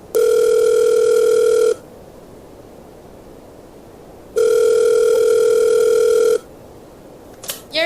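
Telephone tone in a vintage radio drama, two loud steady buzzing tones, each lasting about two seconds with a gap of line hiss between them, then a brief clicking handset noise at the end.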